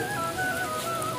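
Heavy rain pours down during a dark storm in rural Rajasthan, a dense, steady hiss of drops hitting surfaces, with thin whistling tones running through it and no voices.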